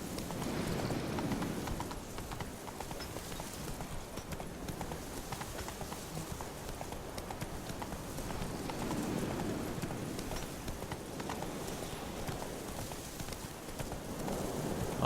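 Roach, Geralt's horse in The Witcher 3, gallops steadily, hoofbeats thudding in a continuous fast rhythm at close range over a constant bed of outdoor ambience, with no one speaking.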